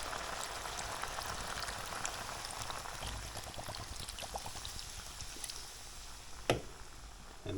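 Mussels steam in Irish dry cider in a covered pot, a soft, steady bubbling and hissing simmer with faint scattered pops and one sharp clink near the end.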